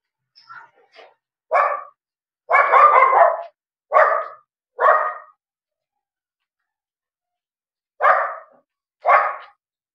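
A dog barks several times in short, sharp bursts, pausing between groups, close by with no other sound around it.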